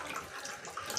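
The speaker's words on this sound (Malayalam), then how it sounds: "ഇതിൽ കുറച്ച് പുളിയും കൂടെ ഒഴിക്കണം" Tamarind water pours into a sardine dish, a soft continuous trickle and splash heard faintly and close.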